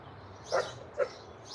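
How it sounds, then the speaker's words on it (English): A dog barks twice in the distance during an indoor live stream, two short muffled woofs about half a second apart over a quiet room tone. "I hear me a dog."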